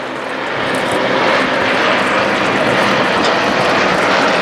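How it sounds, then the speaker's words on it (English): Three aircraft of different types flying in close formation at the Blackpool Airshow, their engines a loud, sustained roar filling the air without a break throughout. "Now as all three aircraft pitch up into the vertical."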